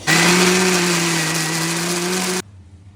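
A mixer grinder runs at full power, grinding roasted prawns for a chutney. The whirring is loud, steady and close for about two seconds, then cuts off abruptly.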